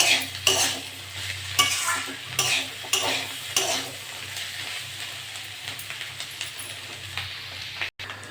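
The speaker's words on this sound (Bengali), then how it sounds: "নেড়ে চেড়ে ভালো করে ভেজে নেব।" Sliced potatoes frying in a pan for a home-cooked potato fry, with a steady sizzle under repeated scraping strokes of a spatula, close and fairly loud, no talking.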